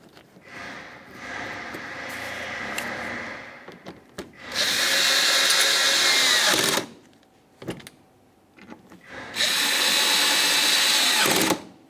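A power drill runs in three bursts, a longer quieter one and then two loud whirring runs of about two seconds each, driving 5.5mm mounting bolts on a 2009–2019 Ford Flex fender liner, with short pauses between the runs.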